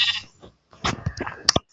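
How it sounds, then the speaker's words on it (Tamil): Baby goat bleating close by: a short cry, a brief pause, then several quick, wavering bleats in a row, ending with a higher, sharper call. "இது ஆட்டுக்குட்டி"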